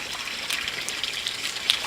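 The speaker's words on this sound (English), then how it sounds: "With your water, fill it all the way up to the top." Water pours into a hole dug in sand as the base for a sand castle, a steady close trickle and splash running for the whole stretch with no talk.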